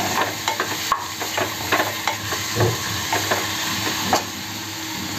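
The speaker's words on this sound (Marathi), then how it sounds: "आता कांदा आणि टोमॅटो चांगला आपण तेलात परतून घेऊया" Onion and tomato sauté in hot oil for a Konkani brinjal and potato bhaji, a steady sizzle broken by repeated scraping stirs of a spoon against the pan, close and continuous.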